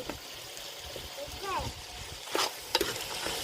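Curry mixture of kandi guggullu being stirred in a pan, a low sizzle with scraping and a few knocks of the spoon while someone talks nearby.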